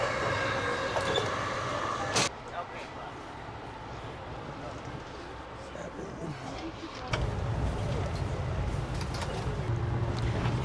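An Amtrak coach train rolls along the tracks at speed on a slightly bumpy ride, giving a steady rumbling interior drone with rattles and a sharp clack near the start, then a deeper, louder roar in the last few seconds.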